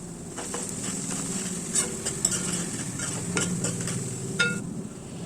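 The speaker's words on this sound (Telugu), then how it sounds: "పచ్చివాసన పోయే వరకు కలుపుకోవాలి" Ginger-garlic paste stirred with fried onions in a hot pan, a steady sizzle of frying with repeated soft scrapes of the spoon against the pan, close and continuous.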